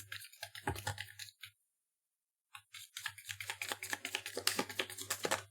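Rapid crisp riffling of cards, a burst, a brief pause, then a longer run of dense flicking, close up with no talking.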